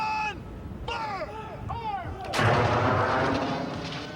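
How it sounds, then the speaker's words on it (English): A historic cannon fires at Fort Henry in Kingston, Ontario. A loud shouted command comes first, then a single sharp, booming cannon shot that rolls and echoes as it fades. "Number 2 gun! Fire!"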